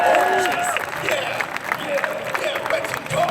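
An audience at the GuardianCon 2017 gaming convention claps and cheers in a scattered burst, with people talking over the applause.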